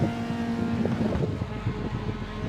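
TCR touring race car at Imola, engine droning at steady revs with a tonal whine that then sags and roughens as the revs drop away, heard with wind noise and no voices.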